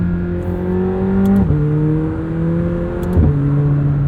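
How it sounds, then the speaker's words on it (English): A 2021 McLaren 720S Coupe with a turbocharged engine revs steadily, its tone climbing and then dropping twice as it shifts, heard loud and close from inside the car with no talking. "McLaren has embraced the turbo noise, and I think that's a good thing."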